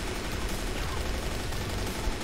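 Rapid gunfire from an RPK machine gun in a Zombie V3 mode shooter game, a dense, continuous burst of overlapping shots that stays loud and steady throughout, with no pauses and no talk.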